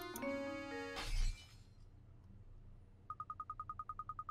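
In a Professor Layton puzzle game, a sharp smash lands about a second in after some tonal chimes, followed by a quiet pause and then a string of rapid, regular electronic beeps.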